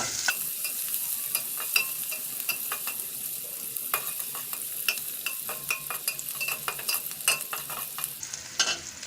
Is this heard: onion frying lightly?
yes